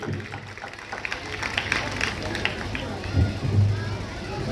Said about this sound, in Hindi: जोरदार तालियों से स्वागत मनदीप योगी के लिए।